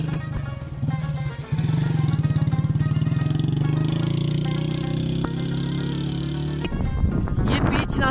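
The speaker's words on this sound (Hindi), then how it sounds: "तो अभी थोड़ा सा एक बाइक आ रहा है, मैं आपको दिखाता हूँ।" A motorcycle engine drones steadily on a mountain road at Pir Chinasi near Muzaffarabad, a buzzing, fairly loud idle-to-cruise hum that holds for several seconds before cutting off into wind and handling noise.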